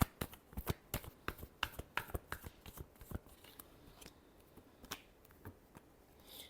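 Tarot cards are shuffled up close in a quick burst of crisp riffling clicks and slaps that thin out into scattered taps, with no one speaking.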